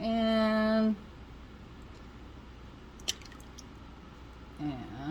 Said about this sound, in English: Let it drip, drip, drip, drip, drip